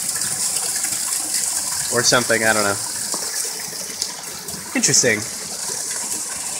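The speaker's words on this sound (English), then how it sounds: "There's water flowing through that log." Creek water pours steadily out of a hollow log set in a creek bed outdoors, a continuous rushing gush up close, with someone briefly talking over it.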